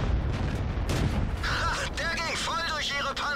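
A tank gun fires at a Churchill tank in World of Tanks from a Marder 38t tank destroyer, with heavy booms rolling under engine rumble, then a series of whining, warbling mechanical tones, while someone talks over it.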